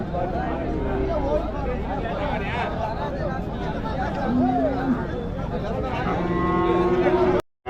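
Calves lowing at a country cattle market, several moos rising over constant crowd chatter and busy market hubbub, close and loud.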